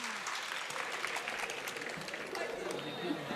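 Steady applause from a mushaira audience, a dense wash of many hands clapping continuously at moderate distance with no other sounds.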